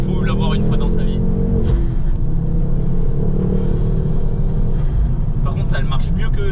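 A Ford Focus RS engine pulls hard with a loud, constant rumble close by, its drone holding steady under the road and wind noise throughout.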